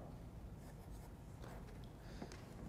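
Chalk or marker scratching across a board in a lecture hall on convex duality, soft strokes and taps faint under a steady room hiss, no talking.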